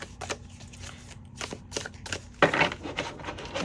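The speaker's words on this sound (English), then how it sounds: "Give it a little shuffle." A deck of tarot cards is given a quick shuffle, a short papery riffle of soft flicks and rustles close by, with a denser burst of shuffling near the end.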